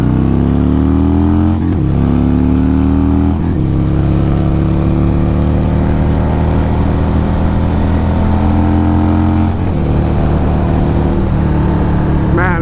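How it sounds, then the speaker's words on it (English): A motorcycle fitted with a Hooligan kit ridden hard: a loud engine revs up through the gears, with brief dips at each shift and rising pitch in between. A voice is faintly audible under the engine. "it makes it such a fun bike to rip around"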